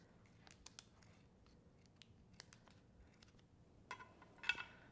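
Scissors snip through the encased top of a trading card, giving a few short, sharp cuts and clicks close up in a quiet room, with a louder cluster of snips near the end.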